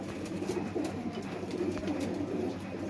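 Rampuri Teddy pigeons coo steadily over a low continuous background, soft repeated calls running through the whole stretch at moderate level.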